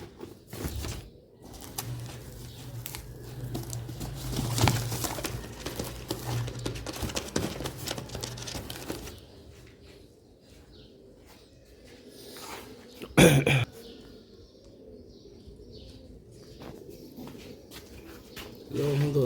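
Sialkoti chohay motiya pigeons coo softly in low, murmuring bursts amid rustling and a sharp clatter midway, with someone talking over them.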